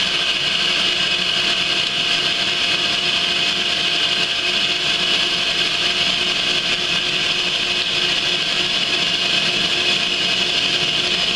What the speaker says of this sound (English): So we're just going to drill some holes here.